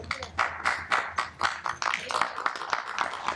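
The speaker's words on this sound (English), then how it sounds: "Not many people walk out of work to a round of applause." A round of applause from a small group of people, outdoors at night in Florida, with irregular clapping bursts rising and falling over a few seconds, fairly close and moderately loud.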